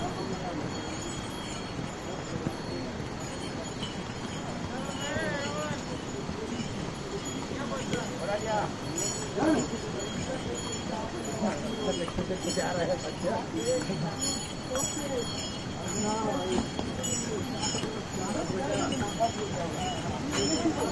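Horse hooves clip-clop steadily along the mountain trail to Kedarnath, a continuous plodding rhythm with faint clinks of tack, under ongoing chatter and outdoor bustle.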